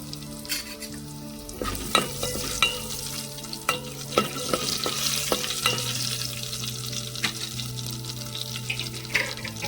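Three dried red chillies, cut through the middle, fry in hot oil in a pan, with a steady close sizzle, scattered stirring clicks and a brief run of water from a tap partway through.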